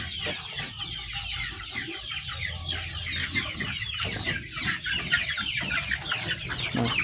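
KUB native chickens in rearing coops cluck continuously, many birds overlapping at close to mid distance in a busy, steady chorus.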